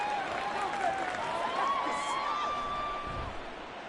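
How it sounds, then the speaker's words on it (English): Crowd at a football game applauding and cheering for the defense, a broad steady roar with rising whistles and whoops, distant and continuous for the whole stretch. "How about some applause for the defense there?"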